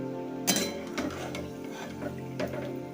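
Peanuts being roasted and stirred in a pan on a medium gas flame for maize-flake chivda, with a few sharp scraping clinks of the spoon against the metal over a soft, steady background.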